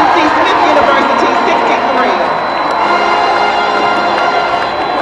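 Large crowd cheering and shouting in Bobcats Arena after a CIAA men's college basketball tournament game between Elizabeth City State and Johnson C. Smith, a loud, steady wash of voices filling the whole stretch.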